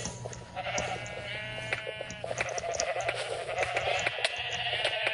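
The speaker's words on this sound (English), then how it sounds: "Yes, we have 10 sheep." Sheep bleating in the video game Minecraft, several overlapping bleats repeating close and loud over a low steady hum.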